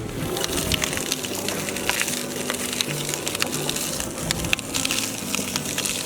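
Cane syrup boiling in an open pan, with a dense, continuous crackle of bubbles popping and small irregular snaps over a steady bubbling wash, close by.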